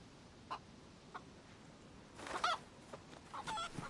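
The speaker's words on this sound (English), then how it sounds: "It's a chicken." A chicken clucks in the survival game DayZ, giving a few short, fairly faint calls against a steady outdoor noise bed, with a brief louder burst in the middle.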